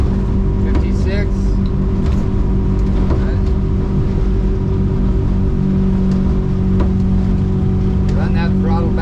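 Twin outboard motors drone steadily on a 2007 Weldcraft Ocean King out on the water, a constant loud engine hum with wind and hull noise, while people talk over it now and then.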